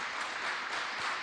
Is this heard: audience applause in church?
yes